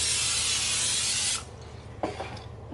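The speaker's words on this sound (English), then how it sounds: "next I'm going to spray my pan with some no stick spray" Non-stick cooking spray hisses from a can onto a pizza pan in one continuous close burst of about a second and a half, followed by quiet handling clicks and rubs.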